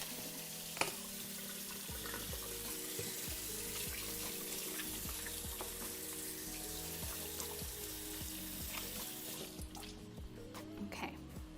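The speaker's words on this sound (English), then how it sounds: "So let me wash my hands." Tap water runs steadily into a kitchen sink while hands are washed, a continuous close splash with faint clatter of cooking in the background and no talking.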